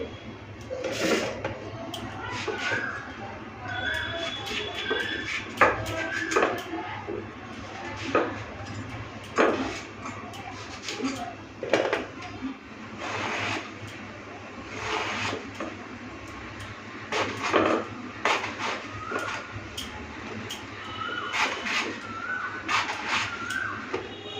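Pumpkin, potato and eggplant are cut on a board, giving irregular sharp knocks and clicks of the knife, some in quick bursts and some spaced apart, set against a low background hum.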